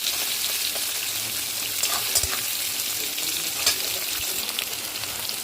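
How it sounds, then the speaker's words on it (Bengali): Steady crackling sizzle of chopped onions frying in hot oil with bay leaf, close and even, with a few brief louder pops or stirring knocks partway through and no speech. "এটাকে ভালো করে ভাজা করে নেবো"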